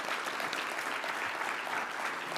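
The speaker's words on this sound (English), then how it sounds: "So give them a round of applause too," A conference audience applauds steadily, dense clapping at an even loudness throughout with no voices standing out.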